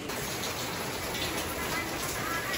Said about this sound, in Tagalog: Bigla naman pong naulan.